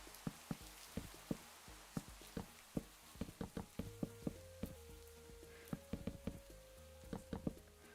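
Rain pattering in the video game Minecraft, scattered drop taps falling irregularly over a steady low wash, with faint tonal game sounds in the background.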